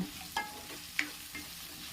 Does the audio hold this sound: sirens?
no